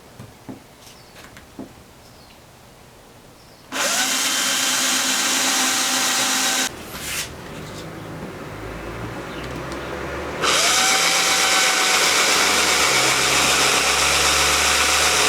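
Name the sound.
power drill drilling holes for car wing install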